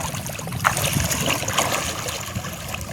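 River water flowing into the Saraswati river dam at Bhankhari during the monsoon, a steady broadband rushing and trickling wash with faint splashes, continuous and fairly close, with no voices.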